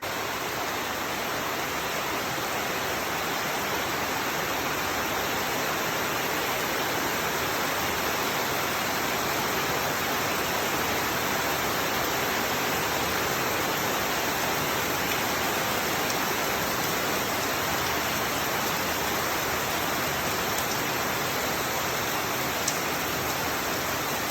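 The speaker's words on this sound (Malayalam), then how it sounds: "സൂപ്പറായിട്ട് മഴ പെയ്യുന്നുണ്ട് കേട്ടോ" Heavy rain pours down steadily, a dense, unbroken hiss of drops close by that holds at the same loud level throughout, with no voices.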